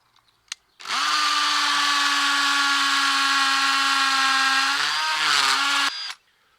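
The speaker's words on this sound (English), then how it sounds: "Now we'll take the masonry drill, make the hole ready to receive the wall plugs." A hammer drill with a masonry bit starts up and grinds steadily into a masonry wall for about five seconds, loud and close, then winds down and stops.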